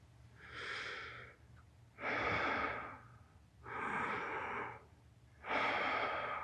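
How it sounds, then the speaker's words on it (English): Four slow, deep breaths in a continuous circular pattern, each a long airy inhale or exhale of about a second and a half, close and steady with short gaps between them. "you're basically just doing continuous deep breathing"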